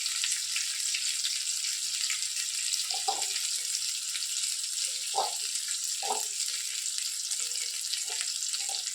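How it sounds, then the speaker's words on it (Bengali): Onions fry in hot oil in a pan for a mutton curry, a steady close sizzle with occasional stirring clinks and scrapes, no voices. "পেঁয়াজটা ভাজা ভাজা হতে থাক।"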